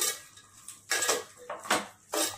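A spoon stirs salt into a tomato egg curry in a pan, giving a few short scraping and clinking bursts against the metal, fairly close with quiet gaps between strokes.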